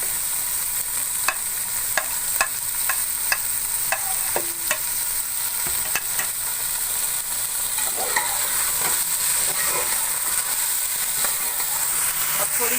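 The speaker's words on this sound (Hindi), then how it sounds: "अब थोड़ी देर टमाटरों को भून लेंगे।" Tomatoes sizzle in a pan with fried okra, a steady frying hiss broken by repeated scrapes and taps of a spoon stirring, close up without speech.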